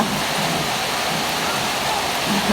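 Heavy rain pours down at a house in a dense, steady, loud hiss that stays unbroken from start to finish.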